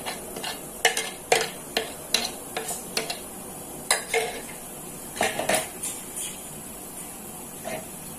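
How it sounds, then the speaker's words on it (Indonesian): Ground peanuts and chili being added to rujak sauce produce a string of sharp, close utensil clinks and scrapes against a bowl, irregularly spaced over a quiet background with no talking. "di sini saya masukkan tadi kacang sama cabai yang sudah saya haluskan."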